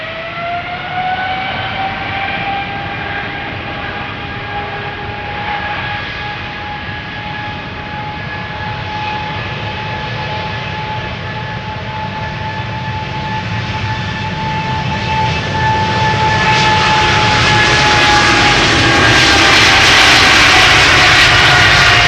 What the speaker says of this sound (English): This is KLM flight 733, 777-200 to Willemstad, Curaçao.